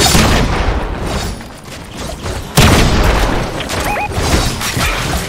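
Fortnite gunfire and explosive booms, loud bursts of shots with a sharp crash midway, dense and continuous without talk.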